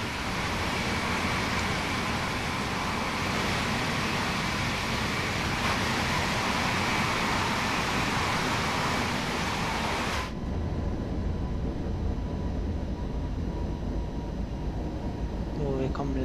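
Loud, dense rumbling of a Cologne S-Bahn train in Train Sim World 3, running with broad noise that cuts off abruptly as it brakes, leaving a quieter hum with faint voices and a rising whine.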